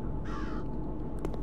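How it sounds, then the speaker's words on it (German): A crow caws harshly in the video game Root of Evil, one rough call followed by a short tail of noise against a steady background hum. "Der Vogel."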